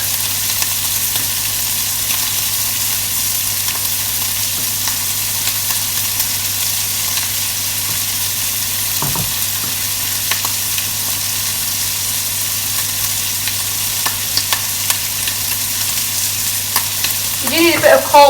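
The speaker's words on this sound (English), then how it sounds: "stir your stock." Stock is stirred in a sizzling pan while making poutine gravy, giving a loud, close, continuous frying hiss with faint scraping and light utensil taps near the end.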